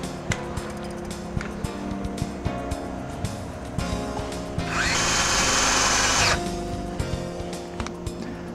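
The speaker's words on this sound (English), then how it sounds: "when you install your screws up through the tension ring into the bottom of the tab on this rib that you've created" A power drill drives screws up through a tension ring into a wooden dome rib: a loud, high-pitched whine bursts for about two seconds midway, framed by clunks, knocks and a low motor hum.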